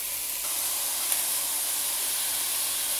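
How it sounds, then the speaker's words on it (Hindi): Chickpeas fry in hot oil in a pan for chole, making a loud, steady hiss that holds evenly throughout with no voices over it. "अब हम डालेंगे चने और उनको अच्छे से फ्राई करेंगे"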